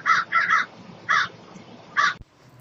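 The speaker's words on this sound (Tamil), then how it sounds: "க்ரோவோட சவுண்டு இப்படி தானே இருக்கும்." A crow caws five times in quick bursts, two close pairs and then a single call, loud and near against a quiet background.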